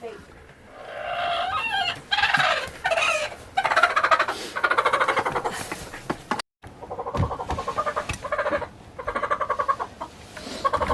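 Broody hens in a brooder corner cluck and squawk loudly and continuously nearby, with agitated fowl calls filling the whole stretch apart from a brief silent gap.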